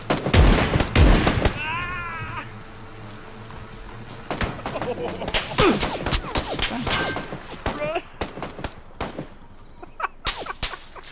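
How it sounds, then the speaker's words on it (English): Rapid gunfire fired from a vehicle in a video game crackles in clusters of sharp shots, loud and close, broken by pauses while voices talk over the action. "Just start shooting."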